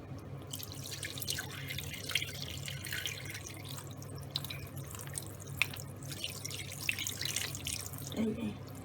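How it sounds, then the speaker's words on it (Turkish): Lime water is poured off and strained from pumpkin pieces for crisp pumpkin dessert, a quiet trickling and dripping with scattered splashes and clinks, faint voices murmuring in the background. "Kirecin suyunu dökeceğiz."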